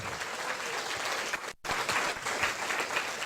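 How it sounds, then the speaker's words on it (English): Conference audience at a women-in-tech keynote bursts into loud, sustained applause, a thick crackle of many hands that briefly drops out for an instant before surging back just as full. "I need a rounding loud applause of this"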